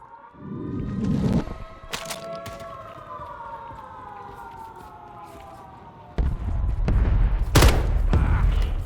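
Sharp gunshots crack in a Warzone match: a few isolated shots early, then a siren-like wailing tone, and louder rapid fire with a rumbling burst near the end.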